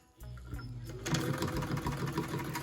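A Singer 66-18 sewing machine stitching a fabric mug rug, its steady rapid needle chatter starting after a brief quiet moment and running continuously close by, growing a little louder partway through.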